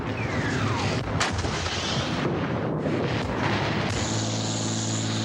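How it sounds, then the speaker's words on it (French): An artillery barrage during the first Lebanon war, heavy explosions and booming blasts filling a dense, loud roar that never lets up, with no talk. "Un barrage d'artillerie de dingue nous tombe dessus."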